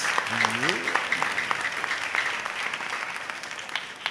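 A congregation at a Simbang Gabi dawn Mass claps briefly and lightly under ongoing talk, a scattered patter of applause rather than a loud ovation.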